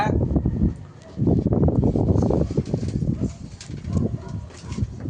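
Pigeons in a rooftop loft coo repeatedly and close by. Their soft, throaty calls come in overlapping rolling waves with brief pauses between them.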